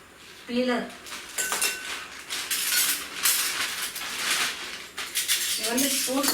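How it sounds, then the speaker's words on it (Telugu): Curry spoons in small, medium and big sizes handled together, bright metallic clinks and jangling in short bursts, close, with someone talking through it. "ఇవన్నీ స్పూన్స్ అండి, curry spoons, small spoons, big, small, medium."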